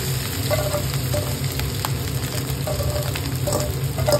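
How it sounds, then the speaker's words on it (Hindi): Potatoes frying in hot oil for bread rolls give a continuous, even sizzle close up, steady and unbroken, with a few light clinks and no voices. "सबसे पहले हम आलू फ्राई करना"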